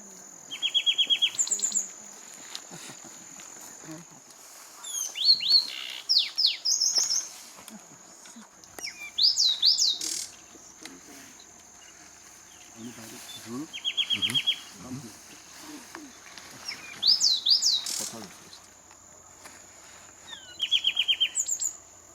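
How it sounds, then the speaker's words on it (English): Complex song of the Zapata wren on Cuba's Zapata Peninsula: repeated bursts of bright chattering phrases and trills recur every few seconds, close and clear over a background of steady insect buzzing. "The Zapata wren, found only on the Zapata Peninsula, has a very interesting, complex song."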